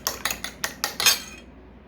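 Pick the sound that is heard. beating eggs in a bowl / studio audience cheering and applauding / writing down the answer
beating eggs in a bowl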